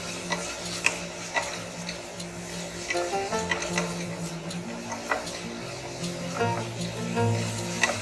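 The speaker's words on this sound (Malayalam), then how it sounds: "ഇനി നമ്മളിത് സവാള ഒന്ന് സോഫ്റ്റ് ആവുന്നവരെ മിക്സ് ചെയ്ത് കൊടുക്കാം." Chopped onions are stirred in a pan with light tapping and scraping of a spoon against metal over a soft, low sizzle, close and moderately quiet.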